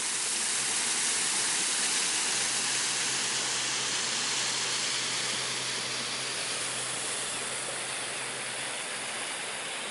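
Small waterfall beside the Armstrong Trail near the Allegheny River, between a railroad turntable and the Brady Tunnel, giving a steady, broad rushing hiss that holds evenly for the whole stretch with no voices.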